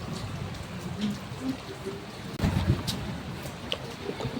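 Steady rain falls outdoors as a broad, soft hiss of drops on surfaces, moderately close, with a brief louder burst midway and faint voices in the background.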